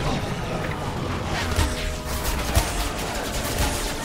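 Gunfire in a zombie video game: dense, rapid shots and impact crashes keep coming over a constant roar of game sound, with faint talk mixed in.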